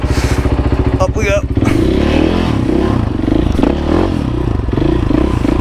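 A motorcycle engine drones loudly and close, holding a steady rev while the bike rides a wheelie through a McDonald's drive-thru, with a brief clattering scrape partway through and voices talking over the engine.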